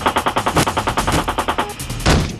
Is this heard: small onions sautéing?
no